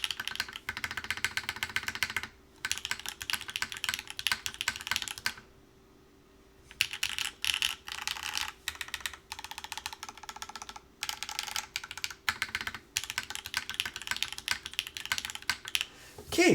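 Bursts of rapid typing on a Zensai 65 wooden keyboard fitted with a palm plate, latte switches and GMK keycaps, close and crisp. Clicky runs of keystrokes are broken by brief pauses, with a longer silent gap near the middle.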